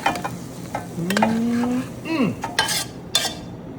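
A spoon scrapes and stirs food into a hot pan, a loud sizzle and frying crackle with metallic clinks and short scraping strokes, close and without speech.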